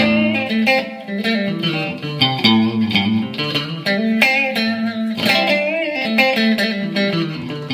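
An electric guitar plays chords and melodic lines through a Mesa Boogie Mark III tube amp, with a distorted, lush tone and noticeable reverb tails, loud and close.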